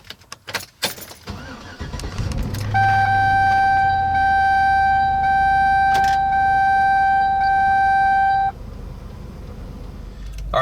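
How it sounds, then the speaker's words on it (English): A 1999–2006 GM fullsize pickup truck starts in a driveway: key jingle, a cranking catch into a steady idle with a loud chime running several seconds, then the engine settles as the truck begins to back out. "I'm gonna fire the truck up here. We'll back it out of the driveway"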